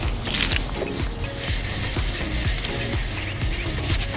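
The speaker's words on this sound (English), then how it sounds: "take the red scratch pad and scratch where there's already paint" A red scratch pad scuffs the painted body of an RV, giving a loud, steady abrasive rubbing with repeated back-and-forth strokes in a quick rhythm, close and continuous.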